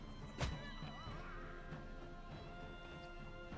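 A horse in the video game Wartales gives a brief neigh near the start, heard over steady game background sound and music.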